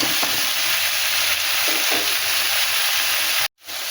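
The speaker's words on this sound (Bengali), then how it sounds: "বেগুনগুলো দিয়ে একটু লবণ দিয়ে দেবো। এবারে নেড়ে চেড়ে একটু ঢেকে দেবো।" Eggplant pieces with salt stirred in a hot pan for a fish curry, giving a loud, steady close sizzle with light scraping before it cuts out abruptly near the end.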